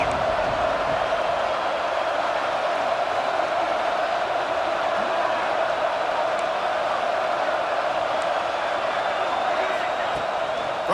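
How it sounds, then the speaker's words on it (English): A steady roar of stadium crowd noise from a college football video game plays through a third-down play, even and continuous with no distinct peaks. "Crowd getting this defense whipped up on third down."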